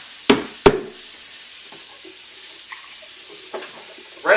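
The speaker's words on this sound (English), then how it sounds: "Reservoir tank I never really get very good. I just rinse it out." Water runs and splashes briefly as a juicer reservoir tank is rinsed out at a small kitchen sink, with two sharp knocks near the start and quiet trickling after.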